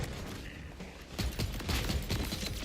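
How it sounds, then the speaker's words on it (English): Rapid assault rifle fire in the video game Borderlands 4 with an increased fire rate, a dense run of quick shots that grows louder partway through, with no voices. "We got that increased rate of fire going on."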